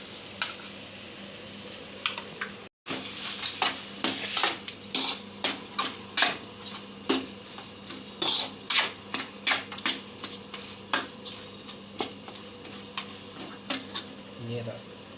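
Chicken with green chilli and soy sauce stirred in a sizzling pan: a steady run of quick, rhythmic spatula scrapes over a continuous frying hiss, close and clear.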